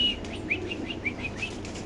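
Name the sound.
Lahori pigeons flapping and calling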